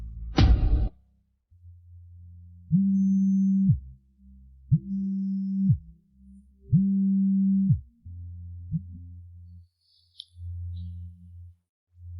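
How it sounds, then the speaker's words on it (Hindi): A phone rings in repeated steady electronic tone bursts with short gaps, loud and close, after a brief sharp knock at the start. "किसका फोन है? क्यों नहीं उठा रहे?"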